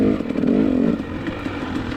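Motocross dirt bike engine on a valley section of a track at a 2019 NMA race in Odessa, Washington, droning steadily near and loud with a slight rise and fall, no talk over it.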